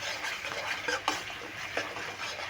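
Yogurt being stirred into a spice paste in a pan, with steady scraping and wet stirring strokes over a soft sizzle, a few sharper clinks of the spoon against the metal.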